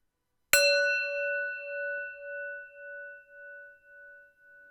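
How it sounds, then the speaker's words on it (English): A single bell is struck once, giving a sharp clear ding whose pure ringing tone sustains and slowly decays with a gentle pulsing beat over several seconds in an otherwise quiet space. "we're going to hear the sound of the bell"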